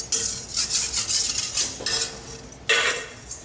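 A milk and passion fruit mixture gets poured back into a cooking pot, with clinking and scraping of utensil against metal in several short bursts, close and fairly loud, no talking.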